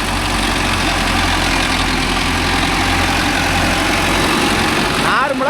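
A Mahindra 605 S tractor engine runs with a rotavator working a harvested sorghum field, producing a loud, steady low diesel drone that holds unbroken throughout.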